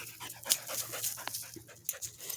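A Border Collie working dog pants rapidly and breathily at close range, with a few sharp clicks and small bumps mixed in and no talking.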